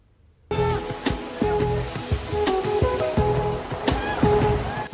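Rushing water pours over rocks at Mirchaiya Falls during monsoon flooding, a loud, continuous roar, with a faint tonal background sound running underneath.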